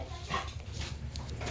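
A pet dog makes soft, high whimpering whines and small yips close by, faint and intermittent against a low background hum, with no talking.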